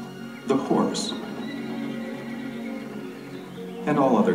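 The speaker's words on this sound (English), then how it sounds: "The horse." A horse neighs loudly and shrilly at close range, a whinny that trails off before a second burst at the end, set among spoken narration.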